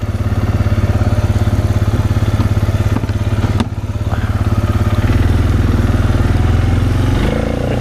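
A Bobcat forestry cutter runs loud and steady with a heavy engine drone, clattering and thumping as it chews through overgrown brush and trees up to ten inches thick, with a rising mechanical whine near the end.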